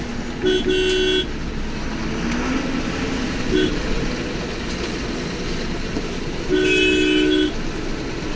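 Vehicle horns beep on a narrow single-lane road through a river belt near Jim Corbett at Mohaan: two loud bursts of sustained honking, one early and one later, with a shorter toot between over a constant low traffic rumble.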